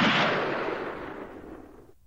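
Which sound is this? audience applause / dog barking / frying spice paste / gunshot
gunshot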